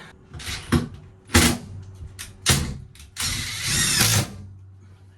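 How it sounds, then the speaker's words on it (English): A power drill drives screws during a bathroom remodel: several short, loud whirring bursts spaced about a second apart, followed by one longer run of nearly a second, close by with no talking. "Get the screws in it"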